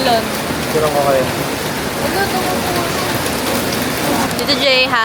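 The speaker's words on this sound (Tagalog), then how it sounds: "We're here and it's raining" Steady rain pours down outdoors while friends hang out, a dense continuous hiss of drops on surfaces, loud and close, with faint voices barely surfacing beneath it.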